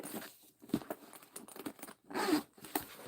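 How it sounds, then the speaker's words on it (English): A purse zipper is unzipped up close, giving a few short rasping, scratchy bursts broken by brief pauses, with one longer zip near the end. "let me unzip these so you can see."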